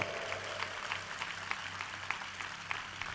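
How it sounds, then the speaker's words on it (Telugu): A church congregation in Vijayawada claps hands in a steady rhythm during a sermon, crisp repeated claps blending into a dense, even wash of applause. "చప్పట్లు కొట్టండి"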